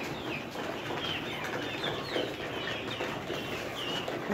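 Layer chickens cluck in a coop in winter, a dense continuous chorus of overlapping close and distant calls with no talk.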